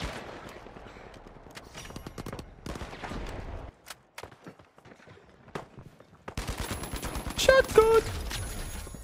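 Bursts of gunfire ring out in the video game The Finals, with rapid shots broken by short gaps and a loud flurry near the end, mixed with game sounds and a player's voice.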